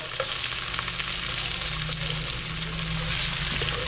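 Galunggong fish frying in a pan for ginataang paksiw, a steady broadband sizzle of hot oil with a low hum beneath, continuous and close throughout.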